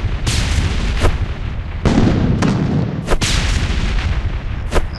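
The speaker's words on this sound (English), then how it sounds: "I am using my grenade." Grenade blasts in a dinosaur hunting video game, several sharp booms in irregular succession over a rumbling background, loud and close with no talk.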